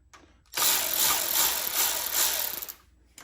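A ratchet clicks rapidly and steadily for about two seconds, close and fairly loud, loosening a bolt on a 2005–2009 Subaru Legacy engine during a steering pump replacement.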